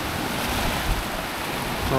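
Sea waves wash onto a Crete beach at night as a steady broadband surf roar, with wind buffeting the microphone and a faint rise toward the end.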